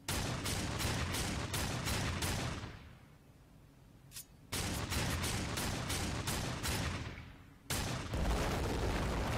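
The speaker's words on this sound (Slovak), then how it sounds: "Ešte, že mám takú fajn strieľaciu pištoľ." Pistol gunfire in the Darksiders 2 video game: rapid bursts of sharp shots in a steady rhythm, loud and close, with brief quiet gaps between volleys.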